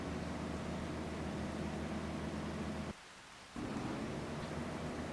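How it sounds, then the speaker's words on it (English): Heavy steady rain with low rumbling thunder in the Farming Simulator 25 game, a dense loud wash that cuts out abruptly for about half a second before resuming. "It's still chucking it down with rain, unfortunately."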